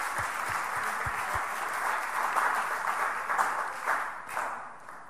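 A church congregation applauds, a dense broad wash of clapping that swells and tapers over several seconds, with a few low thumps near the start.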